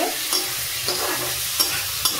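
Bombay duck (lote fish) frying in plenty of oil and stirred in a pan: a close sizzle is broken by about four distinct scraping strokes at an uneven pace, with no talk.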